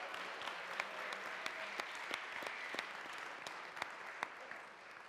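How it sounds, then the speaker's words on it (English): Conference crowd on the main stage at SteemFest3 applauding Roland, a fairly soft, distant, even patter of many hands clapping with occasional sharper individual claps. "Can we get a round of applause for Roland for putting this whole thing on?"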